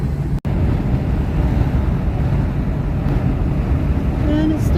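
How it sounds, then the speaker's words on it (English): Strong wind buffeting the microphone at the Point Gibbon campsite by the sea in South Australia, a constant loud rumbling roar with a brief dropout near the start. "And it's still quite blowy."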